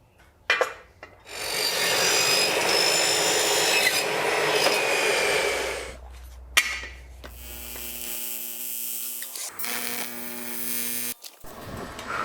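Metal frame tubing being cut for a three-wheeled reverse trike build, a long harsh grinding rasp lasting several seconds, then a lower humming tool tone with a steady whine before stopping; no talking.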